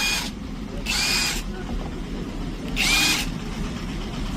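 An INGCO cordless power tool with forward and reverse runs in three short whirring bursts with a high whine, separated by quiet pauses, close and fairly loud.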